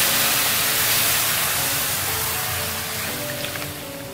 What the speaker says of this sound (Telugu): ఇప్పుడు మనం కాచి చల్లార్చిన పాలు ఉన్నాయి కదా ఈ పాలని మనం పోసుకుందాము